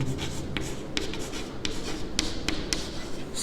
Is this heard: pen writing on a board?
yes